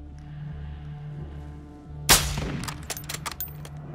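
A burst of gunfire from Warzone 2.0 cracks out abruptly midway, followed by a quick string of sharper distant shots over a low game hum.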